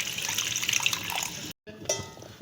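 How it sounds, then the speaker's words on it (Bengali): Water poured into a pan of potatoes and stalks for a Bengali fish curry, a splashing, gurgling pour up close, cut by a sudden silent gap before a sizzling wash of liquid resumes. "এবারে জল দিয়ে দিচ্ছি আমি"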